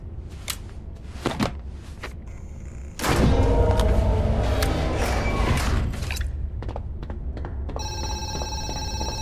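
Telephone ringing in the horror zoo-keeping video game Zoochosis, a loud electronic ring with tonal bursts at the end, following a series of thumps and clatter and a sustained noisy rumble of game sound.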